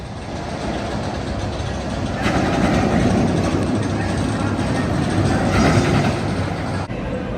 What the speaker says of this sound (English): They're sending a test train.